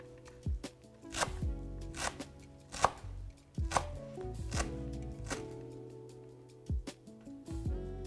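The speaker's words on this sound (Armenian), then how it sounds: "Ամենակարևորը այստեղ սիրելիներս կանաչիները կտրատել շատ մանր" Fresh herbs being finely chopped with a knife on a board, a quick series of sharp, close taps in uneven bursts with short pauses between, alone without talk.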